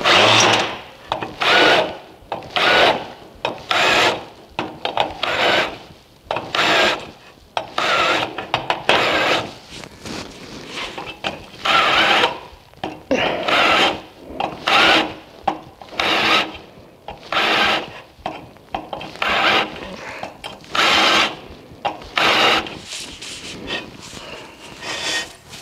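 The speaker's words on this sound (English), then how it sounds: "Before we drill, we're gonna countersink." Power drill countersinking holes in a bypass shock body, heard as a long series of short, loud whirring bursts with brief pauses between them, close by and with no talk over it.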